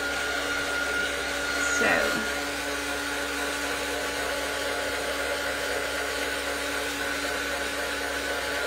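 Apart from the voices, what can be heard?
heat tool drying paint on an art journal page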